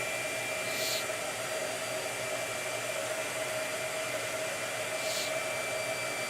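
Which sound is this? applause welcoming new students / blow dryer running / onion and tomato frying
blow dryer running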